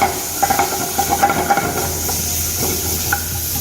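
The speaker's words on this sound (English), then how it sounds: "the onions, some garlic, and we saute it again" Onions and garlic sauté in butter in a pan, a close, continuous hiss and sizzle with soft scraping and stirring knocks throughout.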